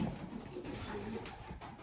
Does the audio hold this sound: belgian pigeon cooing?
yes